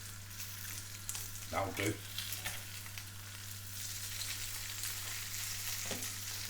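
Bacon fries in a pan with a continuous crackling sizzle, close and moderately loud, with a few scraping turns of the strips and a short spoken remark partway through.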